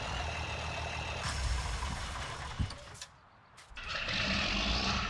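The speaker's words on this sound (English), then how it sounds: "let's use the big tractor for cultivating" A big tractor engine in a survival farming video game, pulling a cultivator. It gives a steady, loud mechanical rumble, briefly dips and quiets around the middle, then rises back to full drone.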